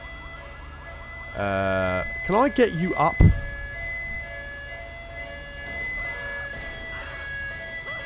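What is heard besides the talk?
ambulance siren in video game GTA 5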